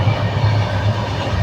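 Steady, loud low rumble from inside a moving passenger train, with faint rhythmic rail clatter and no talking.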